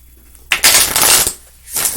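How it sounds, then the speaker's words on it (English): A deck of tarot cards is riffle-shuffled up close, two quick fluttering bursts separated by a brief pause. "I have been shuffling cards all these years"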